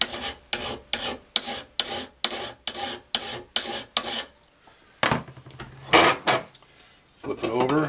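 A hand file rasps across a steel lawnmower blade in about nine steady, close, loud strokes, followed by a few scattered scrapes and knocks as the blade is handled.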